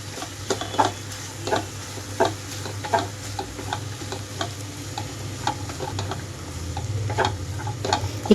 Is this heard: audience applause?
no